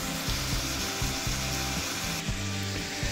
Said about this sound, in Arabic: هلأ راح نضيف اللحمة فوق البصل والثوم ونحركهم مع بعض بشكل كويس